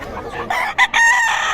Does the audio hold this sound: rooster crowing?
yes